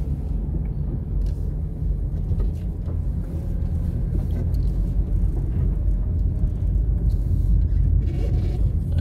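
Steady low rumble of a car driving along a road through a Glendale community on Molynes Road, engine and tyre noise continuous and fairly loud throughout with no talking.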